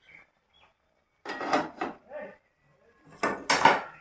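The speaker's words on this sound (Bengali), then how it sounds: "এবারটা ঢাকনাটা খুলে নেব।" A metal lid lifts off a cooking pot in a kitchen, giving a few close clinks and scrapes, a brief pause, then another burst of rattling metal.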